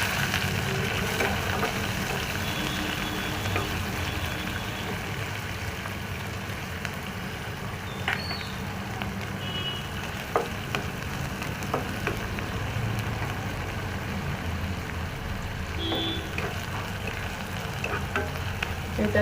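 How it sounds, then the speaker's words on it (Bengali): Chopped onion and cumin seeds frying in hot oil, a steady close sizzle running unbroken throughout with faint occasional stirring clicks and no talk. "এটাকে একটু লাল লাল করে ভেজে নিই"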